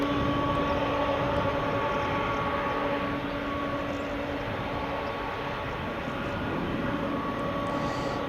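An aircraft taking off from Edinburgh Airport roars steadily throughout, a broad continuous engine rumble with a faint tonal whine, holding at a fairly even level with no talk.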